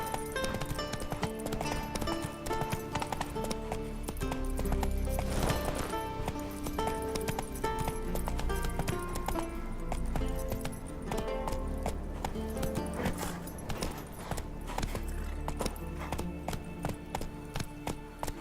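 A horse gallops continuously in The Witcher 3, with quick rhythmic hoofbeats, a few faint whinnies and a game soundtrack playing beneath, heard at a moderate, fairly quiet level.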